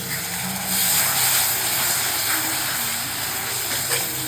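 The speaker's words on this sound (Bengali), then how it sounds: "এই যে বেটে রাখা আদাটা এটাও দিয়ে দিলাম দিয়ে কষাবো এবারে" Whole spices and ground ginger paste fry in a hot pan, giving a steady sizzling hiss with small crackles at close range and no talk.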